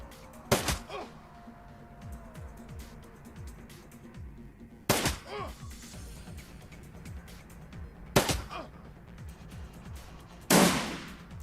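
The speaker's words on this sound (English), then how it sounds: "they're shooting at each other" Gunshots in the tactical game Shadowrun Returns, four sharp single shots spaced a few seconds apart, the last one heavier and more burst-like, standing out against a quiet ambient background.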